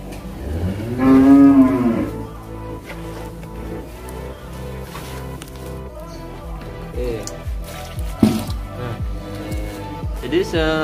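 Cattle fed a mixed ration with Viterna vitamin supplement for fattening let out a loud, drawn-out moo near the start, with further livestock sounds and a voice talking over the rest.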